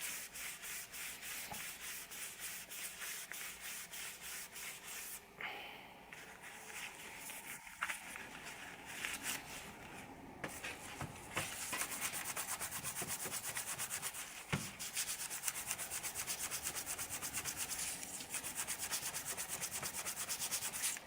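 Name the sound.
scrubbing brake caliper piston with steel wool pad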